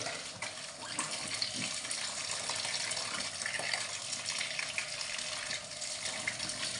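Running tap water pours steadily at a kitchen sink while t-shirts are washed by hand, a constant close gush with soft splashing and no talk.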